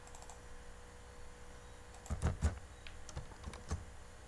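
Computer keyboard keys typed in a short burst of clicks while entering text in ArcGIS, quiet at first, then a cluster of keystrokes near the middle and a few sparse taps toward the end.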